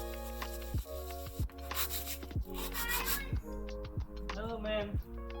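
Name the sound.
sanding small 3D-printed motor mount pieces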